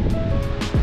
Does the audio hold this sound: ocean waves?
yes